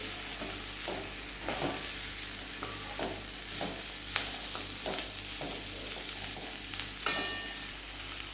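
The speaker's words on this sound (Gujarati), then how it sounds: "વચ્ચે વચ્ચે એને આપણે હલાવતા રહેવાનું, જેથી આ ગોળ ઓગળે છે એ બધી જગ્યાએ સરસ મિક્સ થાય।" Jaggery melting in a pan over a very low gas flame, stirred now and then: steady rhythmic scraping strokes every second or so over a soft background sizzle, close and fairly quiet, with no talking.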